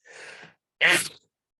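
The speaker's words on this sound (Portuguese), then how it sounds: "Perdão que eu vou espirrar." A person sneezes during a Bible lesson, a soft breathy intake followed after a short pause by a louder, sharp sneeze burst, close and alone.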